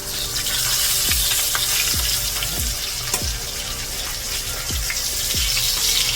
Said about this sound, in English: when you're frying sometimes it's good to use butter, because butter helps the edges to crisp up really nicely